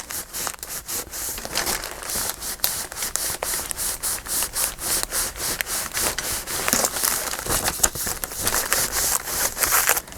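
Paper being rubbed down by hand onto a handmade spring journal page, a steady close scraping and crinkling rub in repeated strokes throughout, with no talking.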